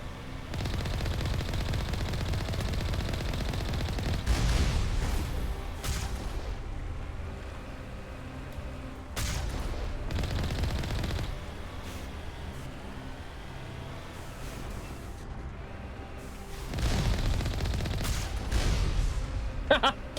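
Video game gunfire in a sci-fi space shooter, bursts of shots and booms recurring across the stretch, loud and dense, with quieter gaps and continuous game noise in between.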